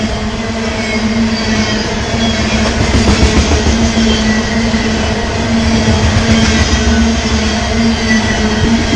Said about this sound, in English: we're kind of stuck here while the train goes by.